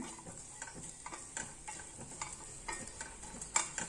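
Coconut rice mixture with salt stirred in a pan, quiet uneven scraping strokes and soft knocks over a faint low sizzle, close and gentle with no talk.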